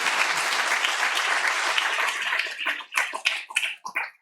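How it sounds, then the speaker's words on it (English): Conference audience applauding a panel of clinical professionals, a dense wash of steady clapping from a room full of people that thins into scattered final claps before stopping. "I think we need to give a good round of applause to our panelists here."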